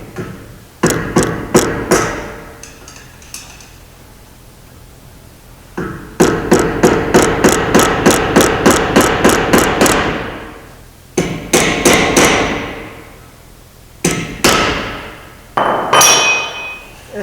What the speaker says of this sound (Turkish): Buradaki somunumuz gevşemesin diye de tekrar eski haline yani şuraları vurarak sıkıştırıyoruz.